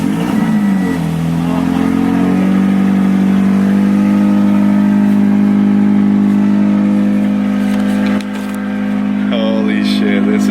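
A 2017 Subaru BRZ fitted with a new MXP SP exhaust revs up close and loud, then holds a steady, droning high idle for several seconds before the pitch dips briefly near the end.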